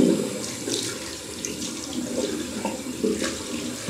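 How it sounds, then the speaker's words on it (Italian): Water runs steadily from a tap into a sink as someone rinses their face, with soft splashes and gurgles from the hands and water and no voices. "mi sciacquo."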